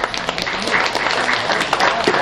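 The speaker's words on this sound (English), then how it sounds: "Let's give them a round of applause." Audience applause ringing out in a county fair swine show ring after blue ribbon market barrows are placed, a dense, steady patter of clapping with voices talking over it.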